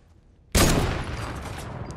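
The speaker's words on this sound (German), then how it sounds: "Der schießt auf mich noch." Assault rifle gunfire in a Fortnite Battle Royale match, a sudden loud burst of rapid shots after a quiet moment, followed by a sustained ringing, echoing tail, with no voices.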